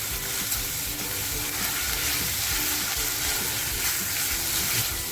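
Coarsely ground masala for a clam curry fries in a pan, giving off a steady, dense sizzle and hiss with faint stirring scrapes underneath and no voices.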